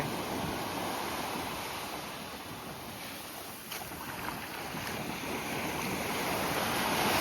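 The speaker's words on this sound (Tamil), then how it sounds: "அலைகளை பாருங்கள் கடல் மேலே எப்படி அலைகள் அடிக்குன்னு" Sea waves wash steadily around a small fishing boat anchored offshore, giving a continuous, fairly loud surf-like rush with no voices.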